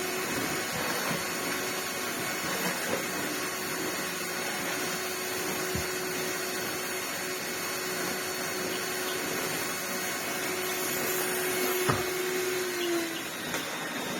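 A vacuum cleaner runs continuously on a mid-range power setting, a steady close whine and rushing airflow with a faint tone that slides near the end.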